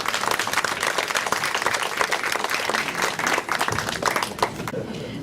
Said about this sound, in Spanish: un aplauso por favor para Leonel Calderón